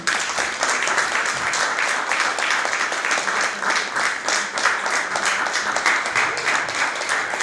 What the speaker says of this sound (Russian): Давайте аплодисментами ее поприветствуем.